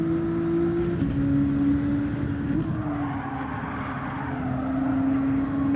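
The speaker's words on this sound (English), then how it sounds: "I'm just blipping down to 4th for a moment, just to help get that extra little turn." A race car engine in Gran Turismo 7 drones loudly and steadily, with quick pitch jumps as it blips on a downshift before settling back into a sustained engine note.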